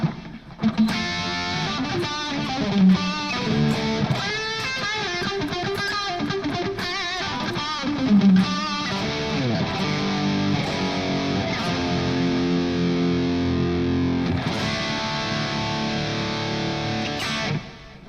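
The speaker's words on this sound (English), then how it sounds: "It's just funny how this Mesa Boogie amp sounds." Electric guitar with a humbucker pickup played through a Mesa Boogie amp on its clean B channel, not the gain channel, ringing chords and single notes with a slightly distorted edge, steady and close, with no talking.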